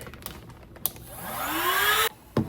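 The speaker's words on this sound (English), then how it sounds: "Now we take the handy dandy vacuum and suck all the air out of it." Handheld vacuum pump drawing air out of a plastic storage bag, a steady rising whine and airy rush that builds for about a second and a half, then cuts off abruptly, with a few faint handling clicks around it.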